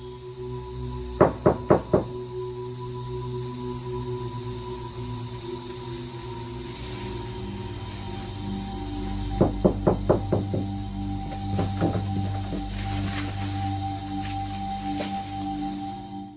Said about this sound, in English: A loud knocking sound from a hard object can be clearly heard coming from inside the hut.